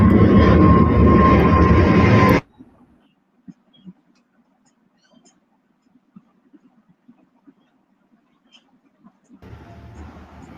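Airplanes taking off roar loudly and broadly for about two seconds, then cut to near silence with faint scattered ticks before the engine noise returns more softly at the end.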